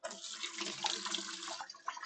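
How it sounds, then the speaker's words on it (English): Reverse osmosis water pumps through a hose into an aquarium, a close bubbling, splashing gurgle with a low pump hum beneath, continuous and without talk. "shoot the water in."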